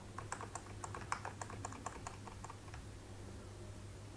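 Rapid keystrokes clatter on a Logitech MK850 wireless keyboard, a quick burst of crisp clicks close up that tapers off and stops partway through, leaving faint background hum.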